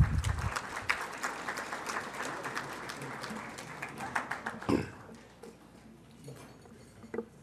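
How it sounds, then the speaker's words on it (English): Applause from a hall-of-honor banquet audience for standing booster club directors, a moderate round of claps that fades after about five seconds into quieter room noise with a few scattered claps. "we'll collectively give you a round of applause"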